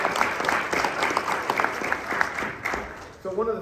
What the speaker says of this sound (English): How about a round of applause for the group that put this together?